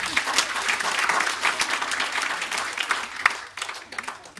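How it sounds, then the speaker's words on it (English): An audience at a talk bursts into clapping, a fairly dense patter of hands with a few sharper individual claps standing out, tapering off toward the close. "You can clap."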